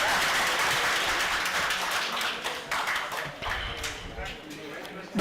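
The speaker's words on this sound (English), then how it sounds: "Let us give her a big round of applause." A seminar audience on carbon trading at an agricultural technologists' institution breaks into loud, sustained applause, dense clapping that gradually thins, with some voices faintly mixed in.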